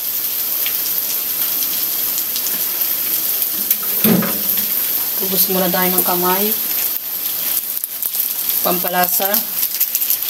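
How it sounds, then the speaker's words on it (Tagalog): Rain falling outdoors in a steady dense hiss, close and continuous, with a voice talking over it at times while food is being cooked. "umuulan na naman"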